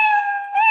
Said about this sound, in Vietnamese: người ta nháy lên một con mèo thì nó sẽ meo meo